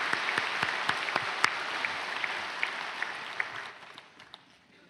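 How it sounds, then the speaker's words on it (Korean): A church congregation at an early-morning special service applauds, even sustained clapping with a few sharp, louder claps standing out, tapering off toward the end. "박수하겠습니다"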